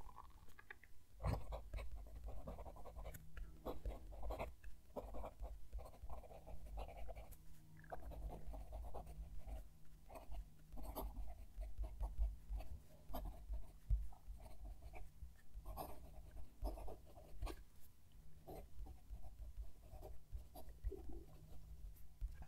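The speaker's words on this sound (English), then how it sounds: "Going to move the mic down to the page and write a sentence." A fountain pen nib scratches across paper, recorded very close, in continuous faint strokes with short pauses between words as a sentence is written; quiet and steady with no talking.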